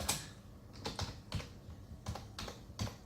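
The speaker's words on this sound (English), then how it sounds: "So I'm going to type that in." Rapid keyboard typing in short clustered bursts of keystrokes, fairly close and moderately quiet, entering text into an online thumbnail design tool, with brief pauses between bursts and no voices.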